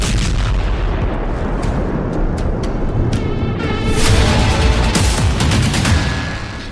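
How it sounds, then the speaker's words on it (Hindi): Loud, dense blast noise from a Falcon 50 private jet crash after an electrical failure, at night: continuous rumbling booms and cracks, swelling stronger partway through and fading at the end, with no voices. "यह धमाका उसी हादसे का बताया गया है।"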